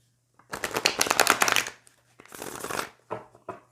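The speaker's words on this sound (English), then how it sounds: "shuffle on camera, especially for those new to tarot." Tarot cards are shuffled in three quick bursts of crisp riffling and flicking, close and clear against a quiet room with a faint low hum.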